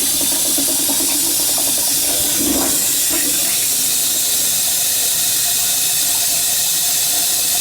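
Water slowly draining from a badly blocked toilet, a steady hissing, gurgling wash with a brief swell of bubbling near the start, then a continuous sound that fades.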